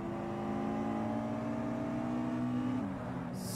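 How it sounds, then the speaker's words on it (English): A Toyota Celica's engine in the racing game Forza Motorsport, a steady mid-pitched drone holding revs with faint tonal whine, dipping slightly near the end as a brief hiss enters. "We're in the Toyota Celica for this one."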